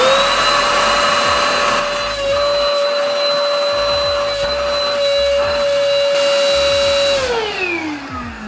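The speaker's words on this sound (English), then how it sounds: "you can use a cordless stick vacuum like this one right here, and just suck out the air" A cordless stick vacuum pulls air out of a spacesaver vacuum storage bag, a loud steady motor whine held for about seven seconds before winding down in pitch at the end, with no voices.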